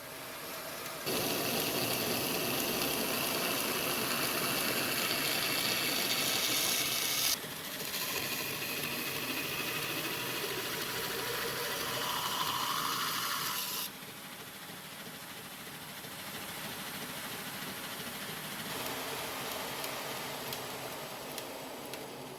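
Grinding the bevel of a small VG10 67-layer Damascus utility knife on coarse 40 and 80 grit abrasive: a loud, continuous rasping hiss that shifts character twice as the pressure or pass changes, with no talking.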